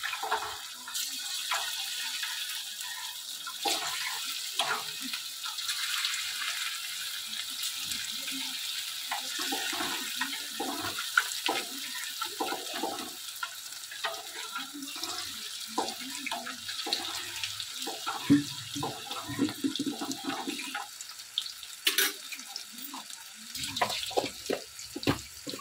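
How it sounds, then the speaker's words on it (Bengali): Chicken pakoras sizzle and crackle in boiling oil, a steady bubbling hiss with scattered pops and spits, close and fairly loud, with no talk throughout. "এই ফুটন্ত তেলেই এবার পকোড়াগুলো আমি টপ টপ করে ভেজে নেব"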